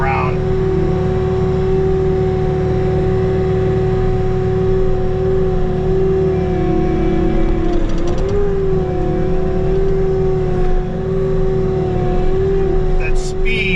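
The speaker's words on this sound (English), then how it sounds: "Track loader that I'm rocking around." A Bobcat T66 compact track loader rumbles close by with a steady engine drone and a brief change in pitch midway, while a person talks throughout.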